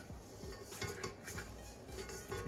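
A spatula scrapes creamed sugar and butter off the bottom of a mixing bowl for an apple cake, quick soft scraping strokes and light clinks against the bowl, faint and close, with no talking.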